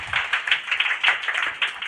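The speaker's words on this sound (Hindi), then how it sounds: "ताली मार दीजिए उन लोगों के लिए।" At a school farewell ceremony, an audience claps for prize winners, a brief burst of quick, scattered hand claps heard close and fairly loud with no talk over it.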